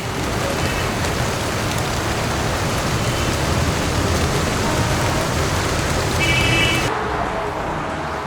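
Heavy, steady downpour hissing continuously, with a faint mechanical drone underneath throughout.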